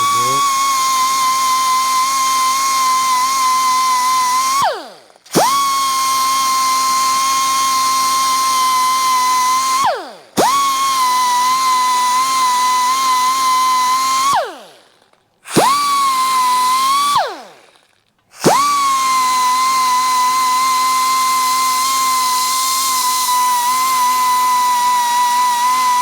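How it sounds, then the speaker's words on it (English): A high-pitched power grinder sands down a weld bead on the back of a Yamaha twin jet 90 ignition switch part, whining loudly in long steady passes broken by four short pauses. "And then I can sand off my little bead of weld on the back there. Okay, let's kind of grind that off a little bit."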